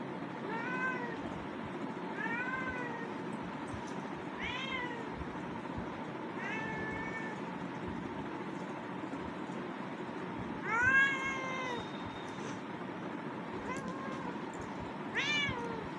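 A cat meows indoors again and again, about eight drawn-out cries spread evenly across the stretch, moderately close over a low steady background hum.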